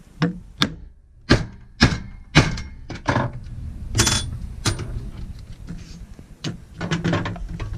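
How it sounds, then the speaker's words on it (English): A hammer strikes a rivet on a leather hand-saw case in a series of sharp, close smacks, about a dozen uneven blows with brief rattles between them. "we're gonna give it some smacks again"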